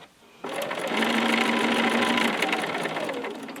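A sewing machine stitching through the fabric pages of a needle book: a sudden start into a fast, steady whirring drone of needle strokes, close and loud, running to the end.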